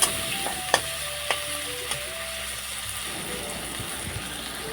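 Pointed gourd being stirred in a frying pan with salt and turmeric, giving a steady close sizzle with a few sharp scrapes and taps of the spoon against the pan in the first few seconds.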